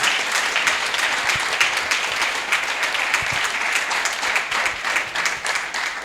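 A Pentecostal church congregation applauds during a service, with dense, sustained crowd clapping that stays loud and even throughout.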